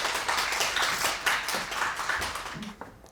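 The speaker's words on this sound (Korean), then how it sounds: "큰 박수와 성원 부탁드리겠습니다." At a hospital's quality improvement conference, an audience in a hall claps steadily for about three seconds. The dense clapping fades slightly near the end.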